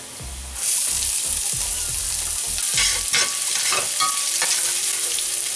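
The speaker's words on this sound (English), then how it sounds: "This is 3 cloves of sliced garlic. Keep on stirring." Sliced garlic and chopped ginger frying in a pan for lamb curry, a loud steady sizzle starting after a moment, with repeated spatula stirring scrapes, close and without speech.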